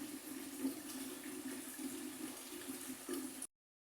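Water pours from a jug into a pot of falsa berries and sugar for falsa syrup, a steady, faint, gurgling stream that stops abruptly.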